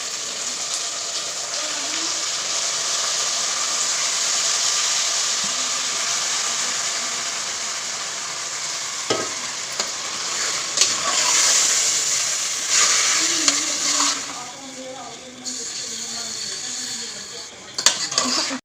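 Chicken going into golden-brown onions frying in a pan for a homemade chicken fry: steady close sizzle with scraping and clattering of a utensil against the pan, a few sharper clinks near the end.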